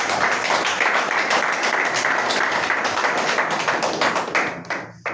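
Audience applause for the authorities at an awards ceremony after an arts festival, dense steady clapping from a crowd throughout, tapering at the very end.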